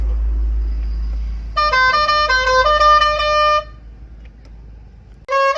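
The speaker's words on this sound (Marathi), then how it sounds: "बोलेरो पिकअप तिला आपण प्रेशर हॉर्न टाकेले" A loud, multi-tone Cobra pressure horn on a Bolero pickup truck blares for about two seconds, then sounds again briefly, close by over a low engine idle.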